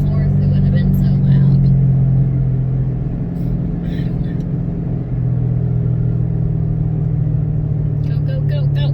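Ford Mustang GT engine under load on a test drive, a loud, steady low-pitched rumble and drone that holds through the clip with slight dips in intensity, while people talk over it.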